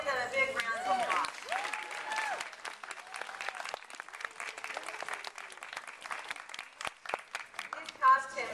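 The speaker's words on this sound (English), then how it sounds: "give them a big round of applause" A crowd applauds continuously with dense, steady clapping, while voices chatter and cheer over it throughout.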